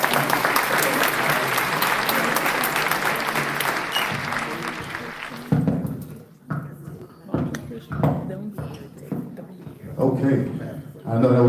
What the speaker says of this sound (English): All right, give a round of applause for the two gentlemen.